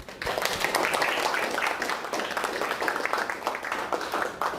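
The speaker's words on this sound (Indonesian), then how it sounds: "kita tepuk tangan dulu bareng-bareng" Students clapping together in a classroom, a steady patter of many hands clapping in unison for several seconds, fairly soft and roomy.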